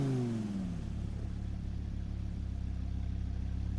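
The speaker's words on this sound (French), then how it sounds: "J'adore les bruits qu'ils font les voitures." Race car engines in Gran Turismo Sport sweep down in pitch, then settle into a steady, buzzing drone that holds alone at a constant level.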